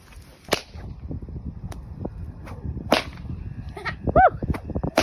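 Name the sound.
whip cracking from horseback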